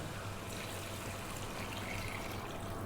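Chicken stock poured into a pot for Arabic lamb rice, a steady continuous pouring and trickling of liquid, fairly quiet and unbroken, with no talk.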